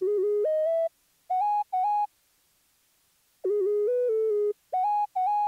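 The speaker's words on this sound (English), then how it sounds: "It's a sine lead, right? And it comes out like this." A sine-wave lead synth from FL Studio plays a smooth, pure-toned melody in short phrases of held and clipped notes separated by clear gaps of silence, loud and dry with nothing else present.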